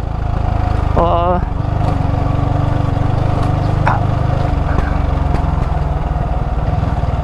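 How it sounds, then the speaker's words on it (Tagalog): A Honda CBR version 1 motorcycle fitted with a carb pipe and CDI runs with a steady low engine drone close by, and a voice chirps briefly over it near the start. "CBR version 1, tapos naka carb pipe CDI pa."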